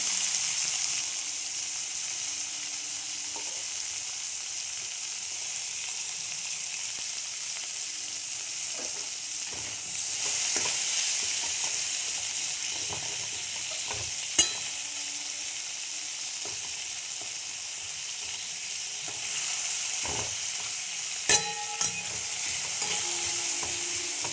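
Cumin seeds and onion frying in hot oil in a pan, a steady soft sizzle running throughout with occasional light stirring clicks and scrapes, fairly quiet and with no one talking.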